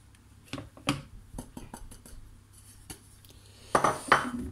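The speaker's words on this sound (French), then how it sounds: "Je viens tamiser, hop, la farine avec le cacao en poudre." Flour and cocoa powder are sifted into a bowl: light scattered taps and soft metallic clinks of a sieve against the bowl, with a louder rattling burst toward the end, close and fairly quiet.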